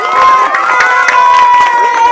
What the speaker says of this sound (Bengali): একবার করতালি হয়ে যাক।